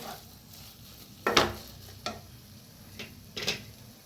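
Potato bhaji being stirred in a pan: a few soft scraping strokes with light sizzling, close and fairly quiet, with separate scrapes spaced about a second apart.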